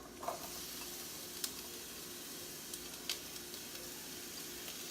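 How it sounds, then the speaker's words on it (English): Chopped onions sizzle in olive oil in a pan: a faint, steady frying hiss with a few small pops and clicks, no talking. "So I already have onions chopped up, and this is our olive oil"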